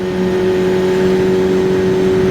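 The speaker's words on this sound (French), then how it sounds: "Ah oui, ce moteur chante très bien." QJ Motor SRK 421 RR four-cylinder motorcycle engine held at high revs, a loud steady tonal howl with a smooth, even drone, close and without talk.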